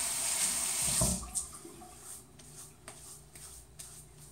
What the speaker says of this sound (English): I'll just put some water on my face.